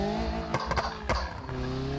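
Turbo Corolla engine in BeamNG Drive, loud steady engine drone with several sharp broadband bursts like tire squeal or skidding breaking through, close and without talk.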